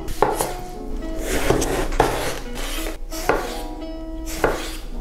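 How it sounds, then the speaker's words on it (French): A knife chops an eggplant diagonally on a board, with repeated crisp cuts at an uneven pace, close up and with no voices. "Commençons par tailler les légumes. L'aubergine en biseau."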